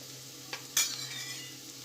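Spices for dal fry are stirred in a pan, a faint low sizzle with a couple of brief scraping clinks of a utensil against the pan.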